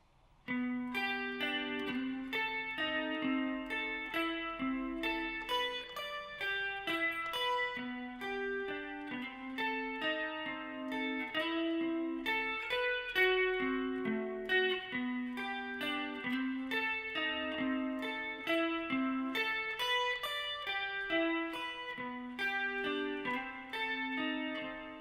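An electric guitar plays the chorus of a song, a steady, continuous run of chords and single notes with a light chorus or effects coloring, close and clear with no talking.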